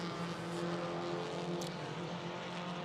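Race cars on a circuit during a club race, with a Mitsubishi overtaking another car, produce a faint, distant, steady engine drone with a slight rise and fall as they pass.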